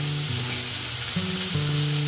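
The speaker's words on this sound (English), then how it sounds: "we're going to take a nice large knob of butter straight into the side of the pan. Beautiful, butter's going to melt straight away." A large knob of butter melts and sizzles in a hot pan used for cooking swordfish, a loud steady frying hiss with a low humming tone underneath.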